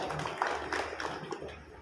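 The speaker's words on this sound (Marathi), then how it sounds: "आपण टाळ्या वाजवून त्यांचं अभिनंदन करायला" An audience at a Marathi-language lecture claps in a short, fairly faint burst of applause, scattered hand claps blending into a soft patter with no one speaking over it.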